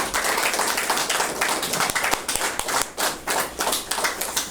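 Enthusiastic audience applause welcoming a lecturer to the stage at a Korean unification academy talk on North Korean threats, a dense steady patter of many hands clapping for several seconds with no speech.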